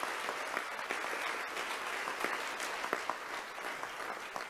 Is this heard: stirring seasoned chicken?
no